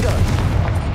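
A Confringo fire spell from Hogwarts Legacy goes off as a short, deep booming blast with a rumbling low-end burst, loud and close, lasting about a second.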